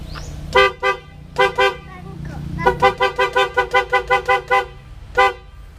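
A repaired Multicab's horn honks in short harmonic toots: a pair, another pair, then a rapid run of about eight, and one final toot, loud and close.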